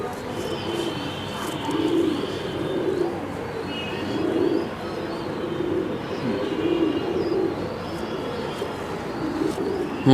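Madrazi pigeons coo softly in their coop at night, with repeated low rolling calls rising and falling in waves and a few faint chirps over a quiet background.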